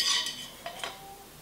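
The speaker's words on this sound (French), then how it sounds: "Je vais poser ma casserole." A metal saucepan set down on a stovetop, with a bright clink and then two soft knocks, close and faint, in a kitchen where ground beef is being browned for a slow-cooker soup.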